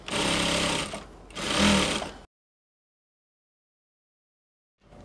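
A sewing machine stitches a half-inch shoulder seam on a half bubu dress in two close, loud bursts with a brief pause between, then silence, and a third burst starts at the very end.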